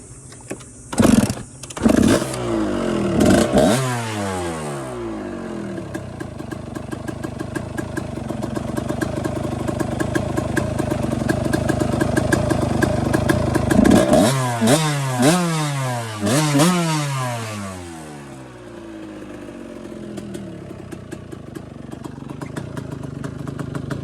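A motorcycle engine fitted with a Chinese carburetor sputters to life after a few choppy attempts, then revs up and down in repeated loud close bursts before settling and cutting out.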